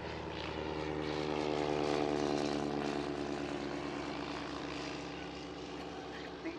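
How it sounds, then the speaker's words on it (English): Vintage Avro 504 and BE2c biplanes fly past at an air show, their propeller engines making a steady droning hum that swells and then slowly fades as they pull away. "There's the BE2 pulling off to the right and the 504 to the left."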